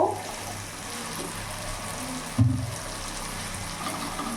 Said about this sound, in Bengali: সামান্য একটু জল অ্যাড করব